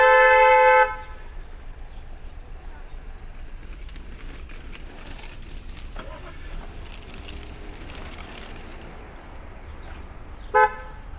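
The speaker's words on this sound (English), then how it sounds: "they beep at a line of cars" On a busy Brooklyn street along 19th Avenue, a loud car horn toots at the start, then traffic rumbles steadily before a second short horn blast sounds near the end.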